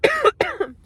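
A person recovering from an illness coughs twice in quick succession, close and fairly loud. Each cough is short and throaty.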